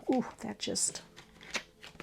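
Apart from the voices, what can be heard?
shuffling oracle cards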